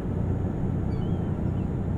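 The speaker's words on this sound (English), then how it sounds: "there's a plane! Plane!" Airplane passing overhead in Euro Truck Simulator 2 on an Iceland road, a steady low engine drone and rumble that holds evenly throughout with no talk.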